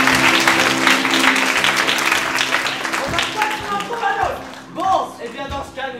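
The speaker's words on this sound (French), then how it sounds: "On applaudit Victor." A theatre audience claps for Victor during a play, loud, dense applause that fades out as voices take over near the end.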